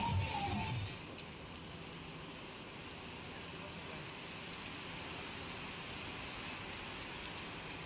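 Heavy monsoon rain with strong wind in Kheda, Gujarat, makes a steady, dense hiss that carries on evenly throughout, with a slightly louder rush at the very start.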